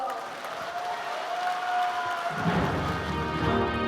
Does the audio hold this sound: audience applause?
yes